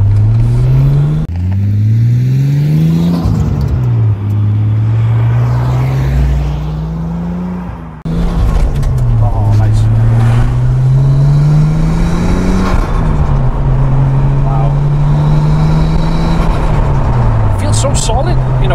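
Bayside Blue Nissan Skyline R34 GT-R replica with Nismo and BC Racing suspension revving repeatedly through the gears while driving, a loud, close engine note rising and falling in waves, with a brief dip mid-run.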